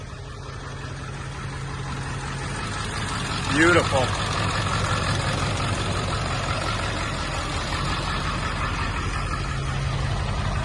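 Half-million-mile Ford 7.3L Powerstroke diesel truck engine idling with a steady low rumble throughout, a brief whistle-like chirp partway through, and a single spoken word near the start.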